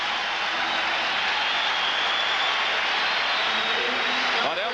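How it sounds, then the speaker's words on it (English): A large basketball arena crowd at a 1984 NBA Finals game between the Boston Celtics and Los Angeles Lakers roars in support of Boston, a loud, steady, unbroken wash of cheering that lasts throughout. "Listen to the crowd support for Boston Celtics."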